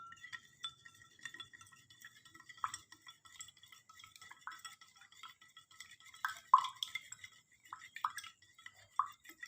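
A spoon clinks and scrapes against a glass as sugar is stirred into water, quiet irregular taps with faint rubbing between them.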